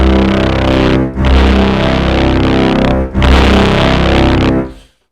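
Kurzweil PC3 synthesizer patch pushed through a nonlinear shaper, giving a loud, thick, buzzing distorted tone held in sustained notes with two brief dips, then fading out at the end.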